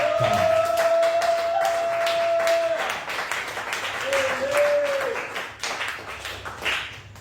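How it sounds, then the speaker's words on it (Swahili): Church congregation clapping during a sermon, a dense sustained patter of many hands that thins out toward the end, with a voice and a sung tone heard over it. "Hebu pigia Yesu makofi kwa ajili ya neno."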